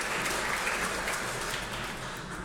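An audience at an open data award ceremony gives sustained applause for the partners and presenters, a dense, steady wash of many hands clapping at moderate volume throughout.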